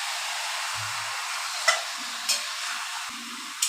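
Marinated chicken being stir-fried in a pan for chicken daak bungalow, a steady soft sizzle with a few sharp clinks of a spatula against the pan and low thuds, no talking.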